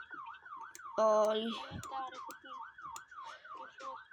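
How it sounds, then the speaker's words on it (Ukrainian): An ambulance siren wails up and down in a steady, fast cycle, moderately close, while a person briefly speaks over it. "Це тут у нас швидка."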